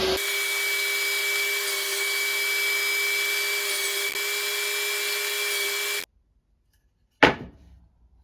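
A power saw cuts through wooden battens for a home-made utility meter box cover, running in a loud, continuous whine for about six seconds before stopping dead, then a single sharp knock after a short silence.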